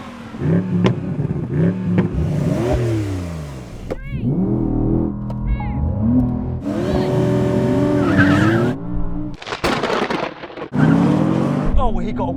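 Drag race launch between a new Porsche 911, Audi R8, Nissan GT-R Nismo and BMW M850i: loud engines rev and roar with rising gear-change sweeps and tire squeal, while excited voices talk over the racing cars.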